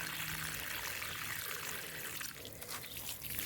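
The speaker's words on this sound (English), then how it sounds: "Here I also have the peppers. The peppers as well. We water them" Water pours onto pepper plants in a vegetable garden as a close, steady hiss and splash that thins briefly near the middle and then picks up again, with no speech over it.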